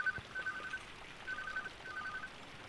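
Telephone dialing tones in a horror video game: a few short bursts of repeated electronic beeps with pauses between them, faint and thin over quiet background hiss.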